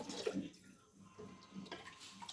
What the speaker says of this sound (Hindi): थोड़ा सा पानी इसमें और शामिल करूँगी